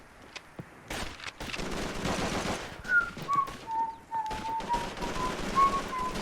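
Gunfire in the World War II shooter Call of Duty 3, with rapid machine-gun bursts and single shots rattling close by over a wavering whistle-like tone.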